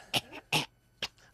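A voice imitates a hacking cough: three short, harsh bursts, close and fairly loud, with brief pauses between them.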